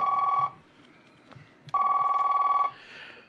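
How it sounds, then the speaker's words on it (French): A telephone rings for a call during a French radio broadcast from 1999, giving two loud, close, trilling bursts separated by a pause of quiet background. "il faut que je donne un coup de téléphone"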